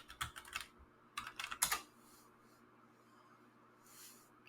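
Keys clack on a computer keyboard as a root login and password are typed at a virtual machine prompt, two quick bursts of soft, close taps separated by a pause, then near silence.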